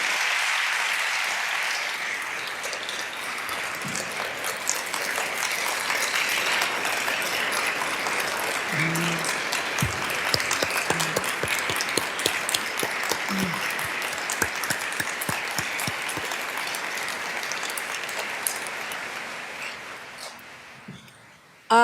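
Sustained audience applause fills a large hall during New York's State of the State address in Albany, steady clapping for about twenty seconds with faint voices underneath, fading at the end.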